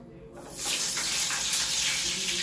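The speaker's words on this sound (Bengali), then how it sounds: "জলগুলো সব বোতলের এক এক করে ভরে রাখতে" Water runs steadily from a tap, filling bottles one after another in a home kitchen; a soft start gives way to a continuous, close gushing hiss.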